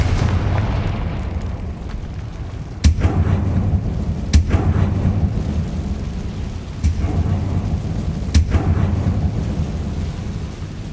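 Confringo explosion spells go off in the Hogwarts Legacy video game, four sharp loud blasts at irregular intervals over a dense, continuous low rumble of game ambience.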